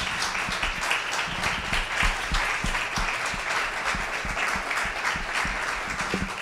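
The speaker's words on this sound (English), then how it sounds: "please give a round of applause again to our panelists." An audience gives a sustained round of applause for the panelists at the end of a parent question session, with many hands clapping densely and evenly for several seconds.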